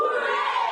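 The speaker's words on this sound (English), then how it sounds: "Can I get 3 cheers?" A graduation crowd at Saltibus Combined School shouts a single loud, sustained "hooray" in unison, many voices blending into one brief cheer.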